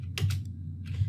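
Quick bursts of keystrokes on a computer keyboard, two close clusters of clicks separated by a short pause, with no talking.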